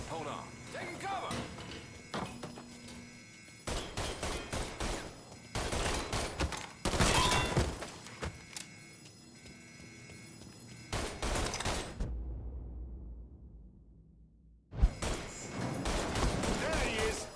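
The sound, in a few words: gunfire shootout in video game Mafia III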